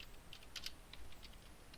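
Faint, scattered keystrokes on a computer keyboard, a part name being typed into OrCAD circuit-design software, quiet and irregular with a few sharper clicks.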